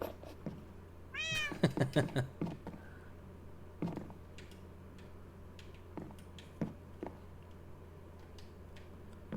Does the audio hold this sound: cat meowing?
yes